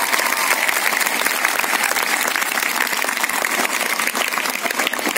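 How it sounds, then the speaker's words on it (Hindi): Audience at a Swachh Bharat cleanliness event in India breaks into loud, sustained applause, dense steady clapping filling the whole stretch without a break. "औरों के लिए एक बार अपने लिए उससे भी जोरदार ताली बजाएं"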